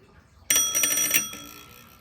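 An electric bell's hammer arm strikes the bell once, producing a sharp ringing hit that sustains briefly, then a second clang follows and fades into quiet.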